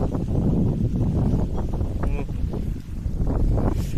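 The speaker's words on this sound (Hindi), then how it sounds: "अभी बहुत तेज हवा चल रही है" Strong wind blows across a flooded farm field in a village, buffeting the microphone with a steady, loud rushing roar that stays up for the whole stretch, with brief gusty swells and no clear speech.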